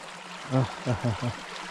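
A mountain stream runs in the jungle as a steady, soft wash of water, with brief voiced bursts of someone talking over it.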